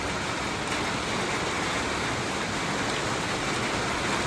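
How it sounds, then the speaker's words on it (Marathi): Steady rain drums on a metal roof sheet outdoors, a dense, even hiss with no gaps that holds constant throughout. "बघा मित्रांनो, या साईडला ना पाऊस आलाय"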